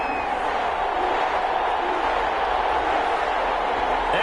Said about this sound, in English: This crowd is ready as their guys get set to match up between the Carolina Panthers and the New Orleans Saints